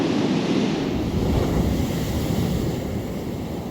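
Big stormy surf pounds the Holderness coast in a loud, continuous roar of breaking swells, with strong wind rumbling across the microphone and no one speaking.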